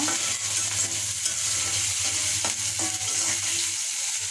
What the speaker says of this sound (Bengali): রসুন, তেল, শুকনো মরিচ আর পেঁয়াজ কুচি দিয়ে দিলাম, ভেজে নেব